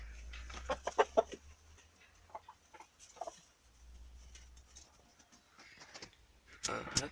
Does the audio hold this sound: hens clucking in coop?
yes